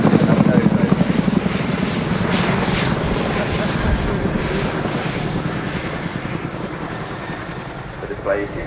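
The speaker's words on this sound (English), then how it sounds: "The display you see today really demonstrates how manoeuvrable this extremely large helicopter is." An RAF Boeing Chinook HC.6 tandem-rotor helicopter flies an air display at RIAT 2019, its loud, steady rotor thump and engine roar filling the air as it manoeuvres, with faint crowd talk beneath.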